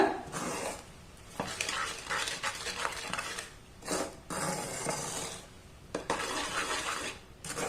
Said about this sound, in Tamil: ஒரு 2 நிமிஷம் நல்லா மிக்ஸ் பண்ணி கொடுத்துக்கோங்க